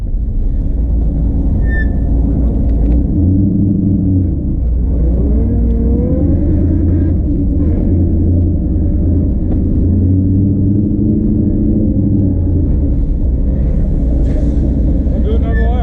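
A drift car drives in a steady, loud engine drone with rumbling low end and shifting pitch as it revs, heard from inside or close by throughout, with no break in the sound.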